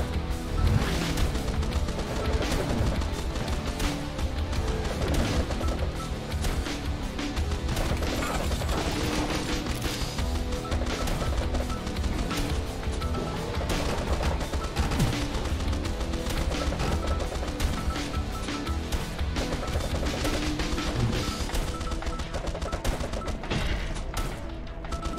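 A Gatling gun with ricochet upgrades firing in the game Swarm Grinder, a relentless rapid rattle of shots mixed with clanking mechanical impacts, dense and unbroken for over twenty seconds.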